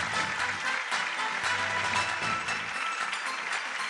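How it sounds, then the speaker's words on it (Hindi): A television singing-show studio audience breaks into welcoming applause for a contestant, a continuous dense clapping with a faint music bed beneath it. "तो जोरदार तालियों के साथ स्वागत कीजिए वर्सटाइल सुमित का"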